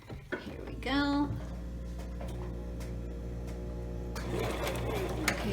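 A domestic sewing machine stitches the exterior fabric of an eyeglasses pouch, its motor running in a steady mechanical whir with light clicking, quiet and close, following a brief spoken comment and a few handling knocks at the start.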